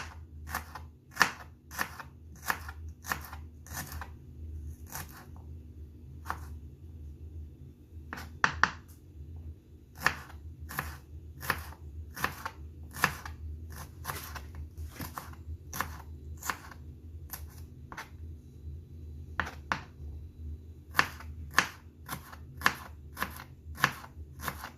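Small onions (shallots) chopped on a board for Kerala buttermilk curry: crisp, rhythmic knife strikes in quick runs of about six to eight chops, separated by short pauses, close and clear with no talking.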